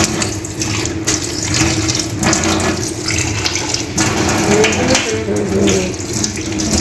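Tap water runs steadily while an item is quickly washed under it in a sink, a continuous close splashing hiss with some handling clatter.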